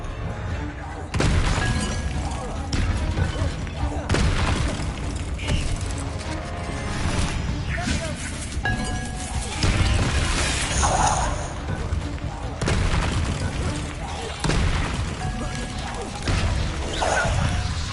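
Bombarda blasting spells explode in Hogwarts Legacy, several loud crashing bursts spaced a few seconds apart over constant game noise, with a voice speaking between them.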